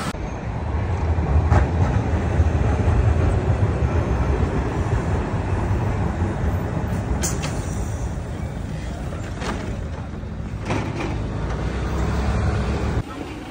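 Ride in a train from the Milan airport to Milano Centrale, a loud steady rumbling roar of the moving carriage with faint rail clicks, occasional knocks and a voice talking beneath.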